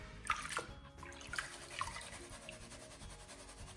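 Gold paydirt being panned by hand in a pan of water, with close, irregular sloshing and dripping as material swirls and washes over the rim, no talking.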